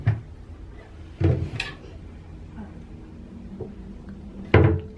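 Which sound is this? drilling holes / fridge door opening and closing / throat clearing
fridge door opening and closing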